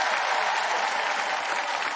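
An audience at a French TV entertainment show claps in a dense, steady burst of applause, filling the room throughout.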